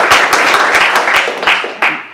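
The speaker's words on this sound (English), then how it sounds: "That was sort of polite applause." Polite audience applause at a judicial opinion-writing panel: a dense, steady patter of many hands clapping at moderate loudness, tapering slightly toward the end with no voices over it.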